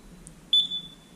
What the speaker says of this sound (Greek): Ένα μπιπ η όπληση